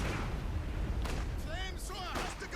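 Grenade explosions in the real-time strategy game Company of Heroes 2, a couple of dull broadband blasts within a steady low battle rumble, partly masked by excited commentary over the top.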